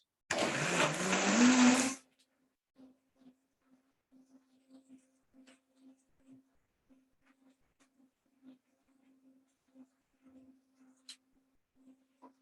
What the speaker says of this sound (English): on full blend for 30 seconds and it's done